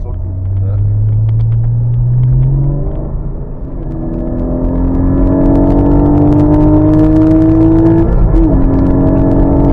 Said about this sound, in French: Le bruit du moteur derrière.